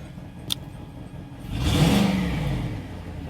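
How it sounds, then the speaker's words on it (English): A Range Rover Vogue engine idles quietly, then revs up in one smooth rising-and-falling swell before settling into a steadier hum, heard close with no voices. "So there, the engine's running nice now."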